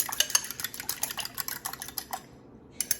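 Three eggs being mixed in a bowl for keto chocolate chip zucchini muffins: rapid, irregular clinking and tapping of a utensil against the bowl, close and fairly quiet, stopping briefly before a few final taps.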